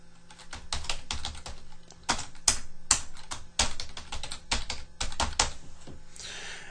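Rapid clicking of a computer keyboard as details are entered, uneven bursts of close, crisp keystrokes with brief pauses between runs and no voices.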